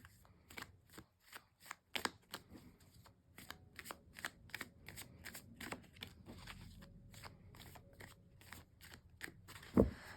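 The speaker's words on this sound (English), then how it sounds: "Let's just do a quick shuffle here." Tarot cards shuffled by hand in close, quiet repeated bursts of crisp slapping and riffling, irregular in rhythm and ending with a sharper tap.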